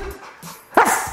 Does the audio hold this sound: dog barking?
yes